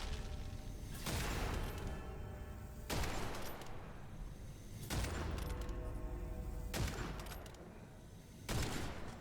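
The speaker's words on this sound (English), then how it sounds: "Just some good, clean shooting now." Heavy gunshots from shooting in the game Witchfire, five loud booming blasts spaced roughly two seconds apart, each with a long crashing tail over steady background rumble.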